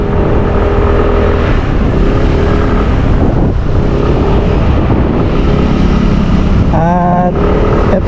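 A 2025 SYM Naga 155cc scooter being ridden hums along with a steady engine drone and road rush, loud and close, with a brief whining rev near the end.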